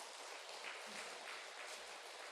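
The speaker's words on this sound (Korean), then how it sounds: "우리 격려의 박수 한번 드리도록 하겠습니다." A church congregation at a Sunday worship service applauds in encouragement for a bereaved family: steady, faint clapping from many hands spread across the room, continuing evenly without voices over it.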